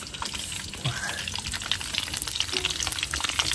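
Beef stir-fried with bitter melon sizzles in a pan, a steady crackling hiss broken by scraping stirs, close and continuous.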